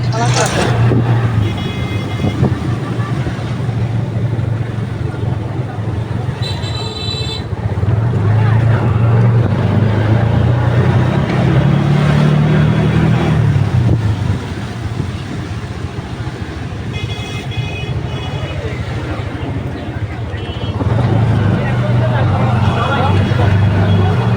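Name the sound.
riding in a CNG auto-rickshaw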